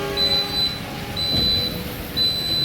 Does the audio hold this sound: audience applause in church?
no